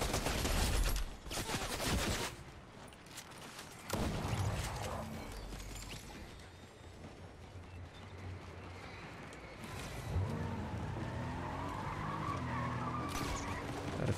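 A car in the video game Fortnite skids and scrapes across the ground while bursts of rapid gunfire crackle around it, followed by a steady engine drone.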